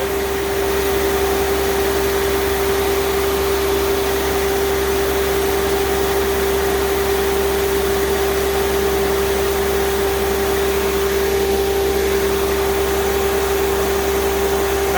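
The engine of a Timberking 2220 sawmill runs while cutting a log, a loud, continuous, even drone with a steady hum that holds unchanged throughout.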